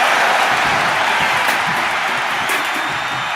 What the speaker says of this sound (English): Packed crowd on their toes